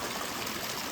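Water running down at 1000 Drips Waterfall beside the Roaring Fork Motor Trail in the Smokies, a steady close wash of trickling and splashing that fills the whole moment.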